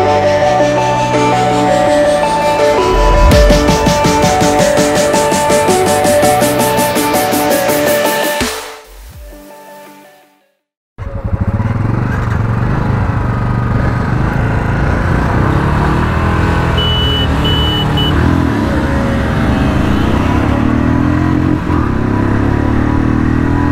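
Royal Enfield Classic 350, Bajaj Pulsar NS160 and Honda Hornet 2.0 motorcycles riding together, engines droning loudly and steadily, a brief drop near the middle before the mixed roar returns full and close.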